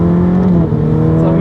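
A mid-engine Ferrari F8 Tributo turbo engine pulls at part throttle, a close, loud, smooth droning growl with strong steady harmonics and a slight dip partway through before it carries on.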